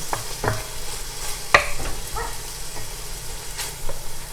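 Chicken Marsala casserole cooking in a pan, a soft steady sizzle with occasional stirring scrapes and clicks, moderately close and heard on its own.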